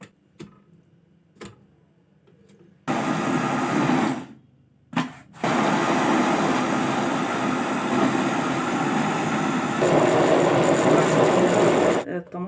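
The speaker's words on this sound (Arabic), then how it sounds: "هنحطها دلوقتي في الخلاط بتاعنا ونضربها" Electric blender pureeing boiled tomatoes for homemade ketchup. A few quiet clicks come first, then a loud steady whir that stops briefly and restarts, running strongly until just before the end.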